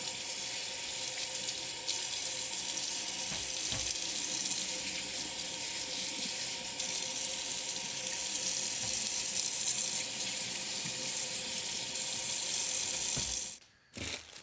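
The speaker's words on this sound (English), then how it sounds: "before you use any vegetables, you're going to want to rinse them off." A kitchen tap runs steadily as vegetables are rinsed under it, a continuous close water rush with faint splashes, then the flow shuts off near the end.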